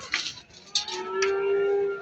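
Male calves at a livestock market in Barda, one giving a clear, sustained close moo after brief noisy shuffling, with no voices around it.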